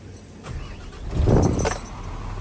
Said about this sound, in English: Go ahead and start this truck back up